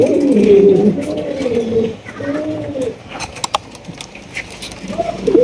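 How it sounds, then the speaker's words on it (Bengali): A pair of Indian Bombay pigeons coo close by in soft, rolling bursts, several calls with short pauses between them and a few light rustles. "এখানে রয়েছে একজোড়া বোম্বাই কবুতর মাসাল্লাহ অরিজিনাল ইন্ডিয়ান বোম্বাই"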